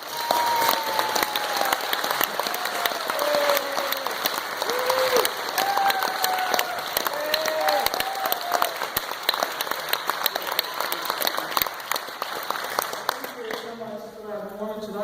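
An audience at an awards event welcomes a speaker with steady, dense applause that fills a hall and continues evenly before fading at the end, as a voice starts to speak.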